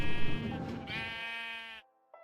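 A single sheep in Minecraft lets out a drawn-out wavering bleat, close and clear, then stops, followed by a faint short trailing sound.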